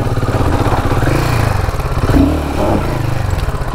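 A Royal Enfield Himalayan 450 motorcycle rides off-road, its engine thumping in a loud, close, steady pulsing drone with a brief swell of revs midway and clattering from the rough ground.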